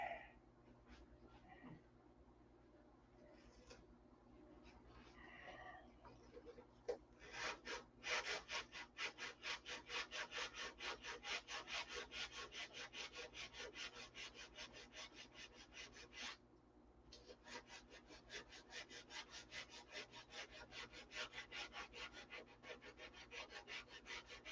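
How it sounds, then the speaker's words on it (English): Steady hand sanding on wood, a rapid back-and-forth rasping rhythm that runs continuously after a few scattered scrapes, with a brief pause midway. "another boring evening of sanding"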